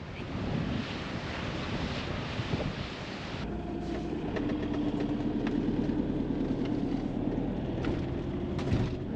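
Ocean waves surge inside a sea cave on the Portuguese coast, a continuous washing roar buffeted by wind noise, with a deeper resonant swell taking over partway through.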